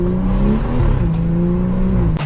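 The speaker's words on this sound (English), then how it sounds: "here is the sound of my BMW M240" A BMW M240's engine drones loud and steady at close range, a low growling rev that holds for about two seconds before a brief sharp burst at the end.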